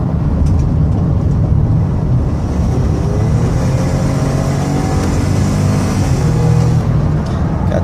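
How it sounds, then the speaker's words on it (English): A 2015 Toyota Sienna minivan engine revs hard under heavy throttle, a loud steady drone with rising tones as it accelerates through the gears, heard alone without talk. "I'm going to drive it hard so you can hear the engine run."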